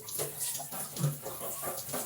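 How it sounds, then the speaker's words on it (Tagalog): A home shower runs with a steady, close hiss of spraying water splashing down, continuous for a couple of seconds with no talk. "mag-shower ba ngayon?"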